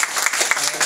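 Brief burst of group clapping at a small book-writing class gathering, a short dense patter of hands lasting under a second with some voice mixed in.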